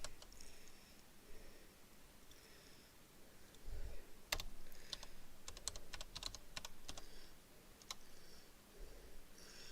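Someone types on a computer keyboard with bursts of quick, light key clicks and a few pauses between them, close up and fairly quiet, with no talking.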